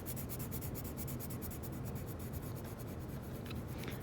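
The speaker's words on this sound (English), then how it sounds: "my pencil's getting stuck here on the edge of the paper, so I'm going to actually turn my pencil." A pencil colors on paper in fast continuous back-and-forth strokes, a close, soft, steady scratchy rubbing with no talk.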